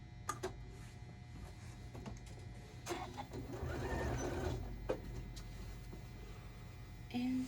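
A sewing machine stitches a mitered corner on a quilt, a steady mechanical whir running from about three to five seconds amid lighter handling noises, with the motor moderately loud and close.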